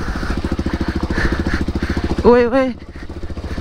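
A dirt bike's engine thuds in a fast, steady pulsing rhythm up close while being ridden, and someone shouts briefly over it partway through.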